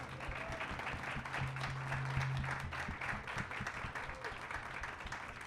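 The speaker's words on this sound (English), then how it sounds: "Can we get a round of applause?" A conference audience in the Bronx applauds: sustained clapping from a sizable crowd, fairly even throughout, with a low steady hum underneath.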